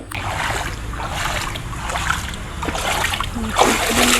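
Rainwater splashes and spatters across a flooded rooftop, a wide band of water that is continuous and fairly close, with a few brief sharper splats near the end.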